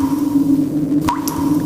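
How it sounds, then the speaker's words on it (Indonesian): Water drips onto a bedroom roof during heavy rain, a single clear drip standing out over a steady low background hum. "suara air netes di atap kamar bikin suasana tambah sepi"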